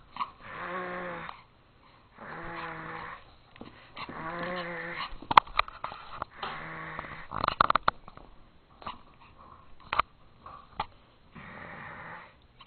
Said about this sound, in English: Come on, do the growl.